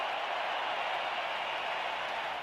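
A baseball crowd of 55,000 at a 1987 World Series game stands and cheers, a steady, distant, roaring wash of applause and voices throughout.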